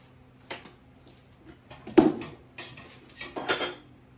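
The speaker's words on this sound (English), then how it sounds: "I've got me 1 tablespoon of all-purpose flour measured in here" A metal tablespoon clinks and scrapes against a dish while measuring all-purpose flour in a home kitchen, a few scattered, faint taps and scrapes at irregular intervals.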